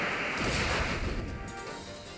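A loud burst of rushing, crashing impact noise sweeps through as Crobat uses Brave Bird in a Pokémon battle, like a powerful swooping strike, then fades slightly.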